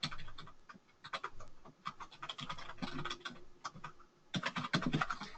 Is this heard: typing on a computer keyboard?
yes